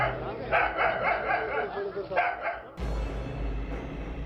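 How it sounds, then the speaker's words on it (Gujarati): A dog that fell into an abandoned farm well with a leopard in Maharashtra barks in short, sharp bursts, loud and close with echo, and then a steady low background sound takes over. "થોડીવાર પહેલા દીપડાથી ડરી ભાગતો કૂતરો આવી ગયો લડી લેવાના મૂડમાં અને શરૂ કર્યું દીપડાને ધમકાવવાનું."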